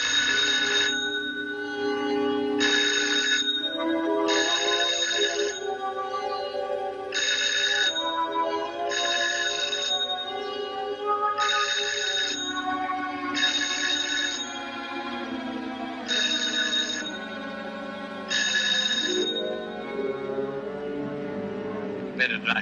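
A telephone rings in repeated regular bursts, loud and close, over a steady background hum with some faint music.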